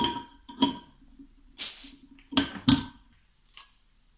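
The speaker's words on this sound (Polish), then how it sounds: "Otwórzmy butelkę." Glass clinks against metal as a wheat beer bottle is handled, then a sharp hiss and pop come as the cap is pried off, followed by a faint clink.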